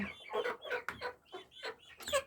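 Hens clucking close by in a backyard flock kept for eggs, a quick run of short, irregular clucks and squawks with no talking.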